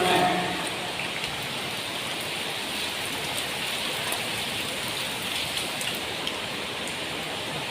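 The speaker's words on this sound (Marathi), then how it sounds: "पावसाने अजूनही विश्रांती घेतलेली नाही" Steady rain pattering on a surface, a continuous even hiss close by with no talking.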